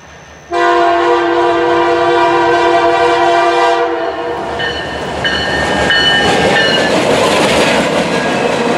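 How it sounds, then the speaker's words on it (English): A loaded freight train on a rail line sounds a loud, sustained multi-tone horn that drops away after about four seconds, then shorter horn blasts ring out over the steady rumble and clatter of passing rail cars. "and then another loaded rail train."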